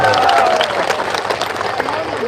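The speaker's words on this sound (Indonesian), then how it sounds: "Tepuk tangan dok." A crowd at a public evening gathering in Indramayu claps and cheers in a dense burst of applause, with voices shouting over it close by.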